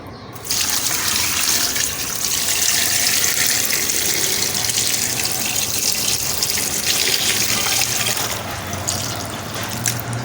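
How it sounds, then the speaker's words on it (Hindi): Water gushes in a steady, loud stream into a cooking pot holding beef trotters, salt and a whole garlic bulb for paya, running continuously for about ten seconds before easing slightly near the end. "और इसमें डालेंगे हम पानी।"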